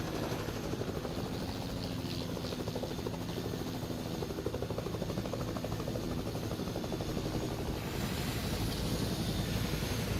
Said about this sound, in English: Wish you could sit on the helicopter and spin.